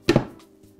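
A lid is set down on a cooking pot of Hungarian goulash soup, giving two quick, close knocks of metal followed by a fading ring and faint background noise.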